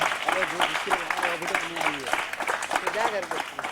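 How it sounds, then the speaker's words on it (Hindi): Underprivileged children at a Diwali celebration in an NGO hall clap enthusiastically, a busy stream of applause mixed with excited young voices and shouts throughout. "तो एक बार जोरदार तालियां"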